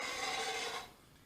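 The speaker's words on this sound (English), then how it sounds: "I decided to use my block plane to knock these corners off." A block plane takes a quick rasping pass across the corner of a wooden workpiece, a close bright scrape lasting under a second before it fades.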